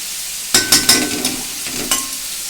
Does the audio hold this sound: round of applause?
no